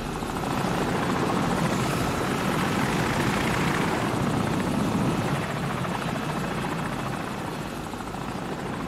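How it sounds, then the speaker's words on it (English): Enemy helicopter in Call of Duty: Modern Warfare (2019), a loud, steady rotor drone with dense low thumping that holds constant throughout, easing off only slightly near the end, with no voices over it. "Enemy helicopter! Get down!"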